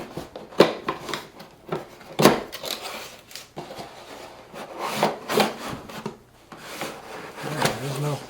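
Pressed paper packaging of a Hasbro Star Wars L0-LA59 animatronic droid toy being opened up close, with repeated dry scraping, rubbing and tearing bursts in an irregular rhythm, loud and alone.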